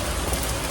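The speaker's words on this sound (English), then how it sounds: "Downpour." Heavy thunderstorm downpour in Nova Scotia, a dense, steady roar of rain pounding surfaces, loud and close with no pauses.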